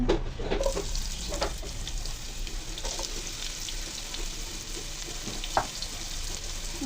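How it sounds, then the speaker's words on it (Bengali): Chopped onions fry in oil in a wok with a continuous sizzle, scattered small crackles and pops, and a few stirring clicks close by. "এখন পেঁয়াজ কুচিগুলো দিয়ে দিব"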